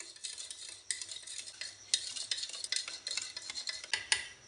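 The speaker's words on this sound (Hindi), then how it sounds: "इसको ज़रा मिक्स कर लेते हैं।" Ingredients being mixed in a bowl, a quick run of close clinking and scraping taps from a utensil against the bowl, uneven in rhythm.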